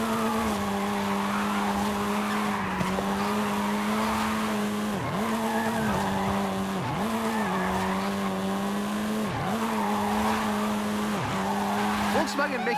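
A car drifts in the video game Forza Horizon 5: a steady engine drone runs under long, wavering tire squeals that dip and swoop repeatedly as the car slides through the turns.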